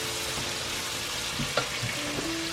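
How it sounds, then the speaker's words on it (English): Garnishing onions for pilau frying in a pan, a steady close sizzle with a few stirring clacks and scrapes, no talking. "make sure you brown some garnishing onions"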